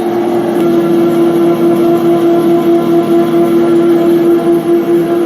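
An industrial machine spindle runs after a gear change, giving a loud, steady hum with a strong constant tone and faint mechanical rumble, unbroken throughout with no voices.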